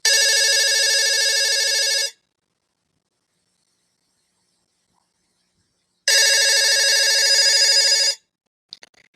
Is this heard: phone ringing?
yes